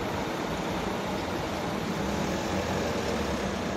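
A small engine fitted to a bicycle runs steadily, a dense continuous buzzing drone at constant loudness, close to the microphone with no talk.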